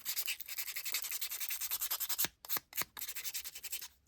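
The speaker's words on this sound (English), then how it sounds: "Using my sanding disc." Steady rhythmic rasping of a sanding disc distressing cardstock edges, quick back-and-forth strokes, close and fairly quiet, with a brief pause midway.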